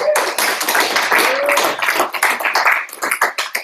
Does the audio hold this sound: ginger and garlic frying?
no